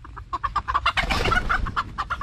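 Chickens being let out of their coop, a close, busy run of rapid clucks and squawks from several birds over about two seconds, with no talk.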